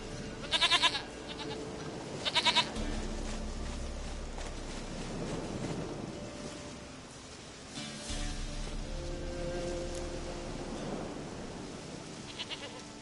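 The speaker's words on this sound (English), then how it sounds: "Goat of mine, dearest," Goat bleats from The Witcher 3, a few short bursts near the start and another later, over a steady windy outdoor ambience with no talking.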